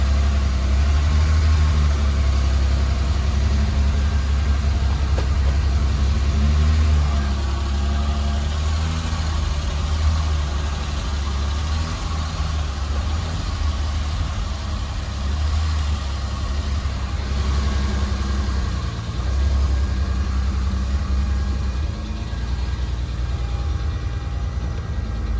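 A BMW E30 325iS with a slightly noisy lower motor idles steadily and close by, holding a low, even rumble for the whole stretch with no talk.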